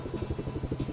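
Helicopter rotors chop steadily in the open-world video game Just Cause 3, a close, loud, even thumping drone with a rapid, regular beat that carries on without pause and without talk.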